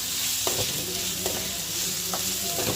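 Green chili, tomato and ginger paste frying in a pan, a steady sizzle with a few sharp stirring scrapes spaced through it, close and alone without voices.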